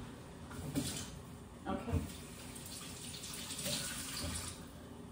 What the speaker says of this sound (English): I'm gonna rinse this because cleanliness is important.